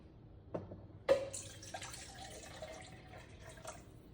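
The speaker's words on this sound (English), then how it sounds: "back behind the Nespresso machine is a water reservoir, so I use this glass to fill it up" Water poured from a glass into the reservoir of a Nespresso Vertuo Pop coffee machine, with a soft start, a sharp splash, then a quiet trickle and small drips, close and faint.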